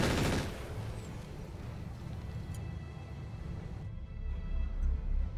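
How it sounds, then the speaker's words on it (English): Gunfire from an enemy Locust firing from high ground in a video game: a quick burst of shots at the start, followed by lower rumbling combat noise and a few faint later reports. "The enemy locust uses the high ground to get some good shots off though."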